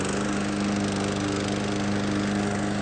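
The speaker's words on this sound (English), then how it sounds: "It's time for everybody's favorite part, the weekly maintenance of the lawn. And mowing is a big part of that." A walk-behind lawn mower engine runs steadily and loudly throughout during routine weekly lawn maintenance, a constant droning hum with a firm low rumble and no pauses.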